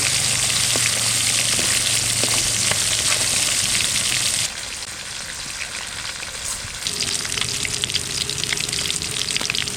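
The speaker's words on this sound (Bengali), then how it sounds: "পমপ্লেট মাছ ভাজা হয়ে গেছে নামিয়ে নেবো এরকম একদম লাল লাল করে ভাজা হয়ে গেছে" Pomfret fish frying in oil in a pan crackles with a loud, continuous close-up sizzle that dips briefly in level midway before rising again, with no voices.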